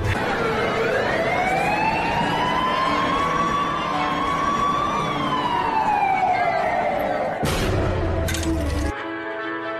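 A police siren wails in a long rising and falling sweep, loud over steady street noise. It breaks off in a sudden cut near the end.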